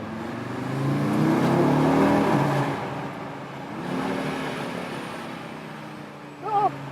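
Audi RS car engine accelerating through a tunnel, a loud broad engine roar that swells, eases off and swells again, with a brief chirp near the end.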